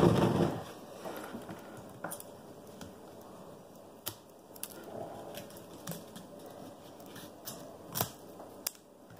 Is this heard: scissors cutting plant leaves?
yes